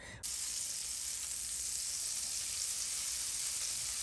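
Butter and a drizzle of oil sizzling in a cast iron skillet over medium heat, a steady close hiss that starts abruptly and holds evenly with no talking.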